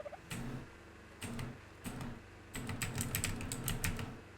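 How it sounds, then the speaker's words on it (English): A loud computer keyboard clacks in quick bursts of keystrokes, separated by brief pauses and then a longer rapid run, close to the microphone with no talking. "I apologize quite a bit for my keyboard. It's just, it's a really good keyboard,"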